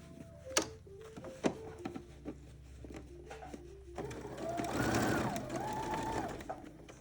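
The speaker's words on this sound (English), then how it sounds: "This is where it's really important to have a denim needle in your machine and just take it slow" A sewing machine stitches slowly through thick layers of a denim jacket, giving a soft rhythmic whirring run in the second half after a few sharp clicks and bumps. No one speaks.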